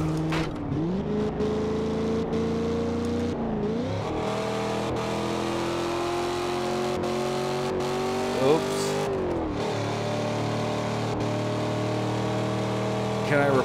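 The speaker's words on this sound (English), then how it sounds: "my Camaro sounds a little beat up" A beat-up, damaged Camaro in the racing game Forza Horizon 2 revs hard and holds a loud, steady engine drone, its pitch sweeping up and down through gear changes across the whole stretch.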